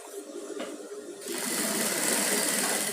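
A sewing machine runs near the zipper of a padded gown. It starts as a quieter whir, then speeds up into a steady, loud buzzing stitch close by.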